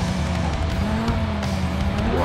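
A rally car from the game Sébastien Loeb Rally Evo slides and skids under a steady loud engine drone, with tire noise scrubbing across the surface for a couple of seconds.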